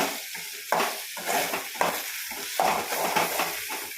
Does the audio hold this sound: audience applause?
no